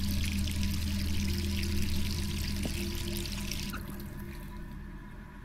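Running tap water in the video game Resident Evil 3, a steady close rushing stream with a low tonal hum beneath, gradually thinning and fading toward the end.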